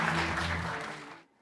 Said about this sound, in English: So can we please have a warm round of applause for Molly Allman?